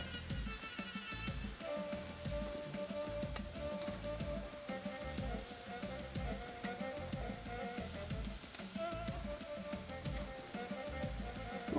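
Filet steak sizzling in a pan, a dense, steady frying hiss with crackling pops throughout, moderate level, no voices.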